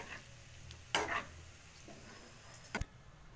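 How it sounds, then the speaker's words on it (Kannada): Maggi noodles with vegetable rice frying in a pan, a faint low sizzle with a few sharp scraping stirs of a spoon against the metal, quiet and close with no talk. "ಇವಾಗ ಇದನ್ನು ಫ್ರೆಂಡ್ಸ್ ಒಂದು 2 ನಿಮಿಷ ಈ ಥರ ಹಂಗೆ ಫ್ರೈ ಮಾಡೋ ಥರ"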